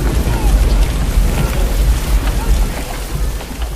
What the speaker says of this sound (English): A spring storm turns crude roads into rivers of mud.